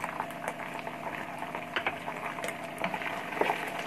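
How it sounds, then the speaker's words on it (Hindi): Garlic paste fries in a pan over high heat for a black chickpea curry, a close bubbling, spattering sizzle with irregular pops throughout a short stretch, no speech. "लहसुन पेस्ट 1 खाने का चम्मच, अच्छी तरह से इसको भी फ्राई करेंगे 1/2 मिनट।"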